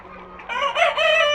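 Tiger breed chickens on a farm, a rooster crowing loudly and close by while hens cluck faintly underneath, the crow rising in one strong drawn-out burst.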